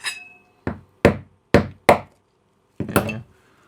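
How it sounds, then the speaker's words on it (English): A hammer strikes a blown IGBT power module on a bench, six sharp, loud knocks spaced irregularly, the last two close together, each ringing off briefly into silence. "The hammer seems to have done a fairly decent job."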